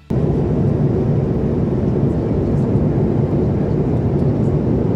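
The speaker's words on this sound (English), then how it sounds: "You can just hear the airplane humming while you are flying majestically through the sky." Airliner in flight heard from inside the cabin: a steady, broad low hum and rush that fills the whole span without a break, close and even, with no voices over it.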